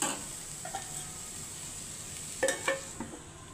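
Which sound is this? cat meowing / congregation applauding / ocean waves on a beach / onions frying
onions frying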